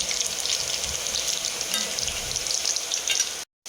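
Oil sizzles and crackles steadily as lumpiang Shanghai spring rolls deep fry, submerged in it, a continuous close hiss that cuts off abruptly near the end.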